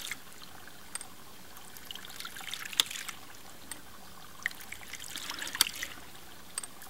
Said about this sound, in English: To do that, I'm going to push down on this valve and continue to push until it starts operating on its own.